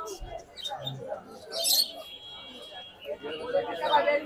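Small caged birds chirp and tweet at a busy outdoor bird and pigeon market in Mirpur, Dhaka, with bright bursts of calls amid a crowd murmur; people talk nearby throughout.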